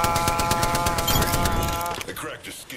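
Automatic weapon fire in the Apex Legends battle royale game, a loud rapid burst of shots lasting about two seconds before tapering off, with a voice talking over it.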